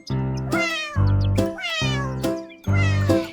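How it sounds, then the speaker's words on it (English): A kitten meows four times in a row, loud and close, each call a drawn-out, wavering cry with short pauses between. "Kitten mewed a tiny call, echo dancing near the wall."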